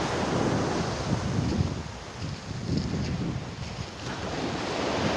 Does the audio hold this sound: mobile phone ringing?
no